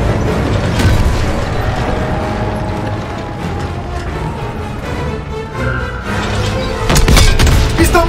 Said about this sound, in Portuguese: O tiro não penetra na blindagem dianteira!